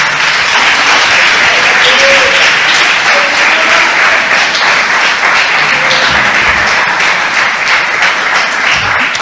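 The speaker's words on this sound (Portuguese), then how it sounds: "Pode dar um aplauso ao Senhor." Loud, sustained applause from a church congregation praising the Lord, steady dense clapping filling the room throughout without pause.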